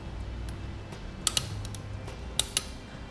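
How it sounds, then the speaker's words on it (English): Ratchet wrench clicks while torquing bolts on an Air Lift LoadLifter air helper spring assembly for a 2018 Chevrolet, a few sharp metallic ticks and clacks over a quiet background hum. "Now we'll torque these bolts to the amount specified in the instructions"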